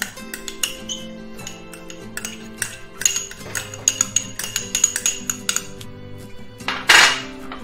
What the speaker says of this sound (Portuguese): Só com uma colherzinha mesmo, ó, a gente vai misturando.